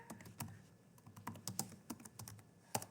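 Typing on a computer keyboard during a Python coding lesson: irregular bursts of sharp, close key clicks, some clustered quickly and others spaced apart, with no talk.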